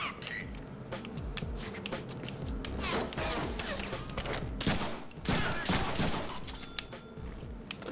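Rapid gunfire from the Deadpool video game crackles in dense, overlapping bursts and volleys, with heavier impacts mixed into the shooting, all fairly loud and continuous throughout.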